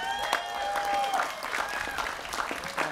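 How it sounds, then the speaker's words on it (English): Audience applause at the 2018 College of Alameda graduation ceremony, a steady wash of clapping with a sustained whistle or tone running through it, fairly even in loudness throughout. "Ladies and gentlemen, let's applaud our College of Alameda President, Dr. Tim Karas,"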